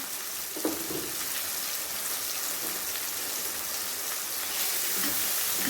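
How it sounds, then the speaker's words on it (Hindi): Spice masala with red chili powder frying in oil for a mash dal tarka: a continuous, even hiss and sizzle, close and fairly loud, with a few soft knocks early on and no voices. "तो ये अब मसाला मेरा भून रहा है"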